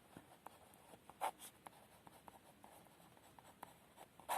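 A pen writes on paper close up, faint scratchy strokes and light taps coming in quick irregular bursts in a quiet room.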